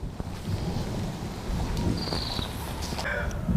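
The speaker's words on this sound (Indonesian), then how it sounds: "Meskipun ada sedikit suara petir ya." Distant thunder rumbles low and faint through steady rain at a rural farm spot in Tangerang, a broad continuous wash with a few soft swells rather than sharp cracks.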